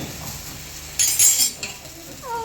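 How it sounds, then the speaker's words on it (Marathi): A metal utensil strikes a kadhai wok hard, giving a loud clanging clink with a ringing metallic tail, followed by a smaller knock, close by in a quiet kitchen. "जोरात आपटलं काय कढई मध्ये."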